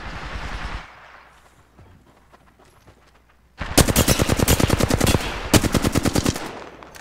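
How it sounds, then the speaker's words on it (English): Loud, rapid automatic gunfire in a first-person shooter game, starting with a brief blast, then a quiet pause, then two long sustained bursts of close, sharp shots with a short break between them. "Shots fired at me."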